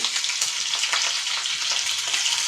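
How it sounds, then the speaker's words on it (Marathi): Garlic frying in hot oil for a yogurt kadhi: a close, steady, crackling sizzle with no pauses and no talking. "लसूण लालसर होईपर्यंत आपल्याला तळून घ्यायचं आहे"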